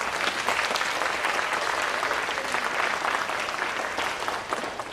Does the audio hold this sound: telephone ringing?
no